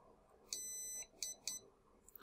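Electronic beeps from a brushless electronic speed controller menu on a WLtoys K989 RC drift car: one long high tone followed by two short beeps, thin and piercing against faint background hiss.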